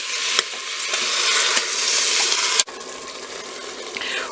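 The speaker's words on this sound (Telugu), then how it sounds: "3 టమాటాస్ని ఇలా కట్ చేసుకొని వేసుకొని ఫ్రై చేసుకోవాలి" Chopped tomatoes frying with ginger garlic paste in a pot, a steady loud sizzle with stirring scrapes, a sharp clank midway and then a softer continuing hiss.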